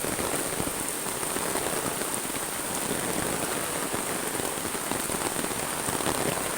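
Heavy rain pours down in a dense, steady roar that never lets up, loud and close with no voices over it.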